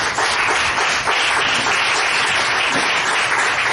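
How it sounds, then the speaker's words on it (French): A church congregation applauds loudly and continuously, with dense, steady clapping filling the space for a few seconds. "On acclame le nom de Jésus-Christ."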